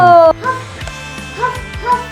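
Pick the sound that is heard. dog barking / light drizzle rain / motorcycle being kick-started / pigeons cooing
dog barking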